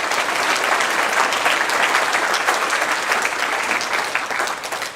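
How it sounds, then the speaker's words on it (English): An audience at a commercial steer awards ceremony claps steadily in a dense, sustained round of applause that fades slightly at the end, with no talk. "let's give them a great big round of applause"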